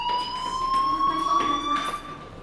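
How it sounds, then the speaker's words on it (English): A steady electronic fire alarm tone sounds continuously in the Life is Strange video game, a sustained high whine with harmonics that holds unbroken for the whole stretch, fairly loud and with no talking over it. "do you hear that fire alarm? That means you should be outside."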